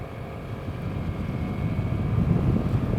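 Wind buffets the microphone while riding a Vespa GTS 300 Supersport at about 35 mph, a steady low roar that grows heavier and rougher over a few seconds, no voices heard.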